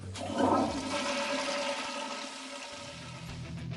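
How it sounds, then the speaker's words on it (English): A toilet flushes close by, a loud rush of water surging at first and then settling into a steady swirling drain that runs on to the end. "I'm afraid I have to flush."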